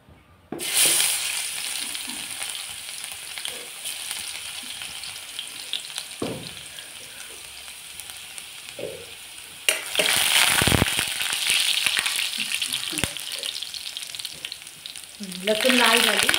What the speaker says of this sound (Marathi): आता आपली लसूण ठेचून झाली आपण टाकूया त्याच्यामध्ये